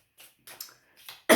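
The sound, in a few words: cough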